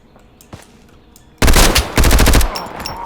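Gunfire in the game Road to Vostok: after a faint click, a loud, close burst of rapid automatic shots, a brief pause, then a second sustained burst.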